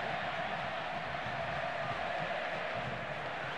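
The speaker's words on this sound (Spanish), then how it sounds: "Se lleva el aplauso igual" Stadium crowd applauding at a River versus Atlético Tucumán Copa Argentina football match, a steady dense wash of clapping and crowd noise throughout, fairly distant and even.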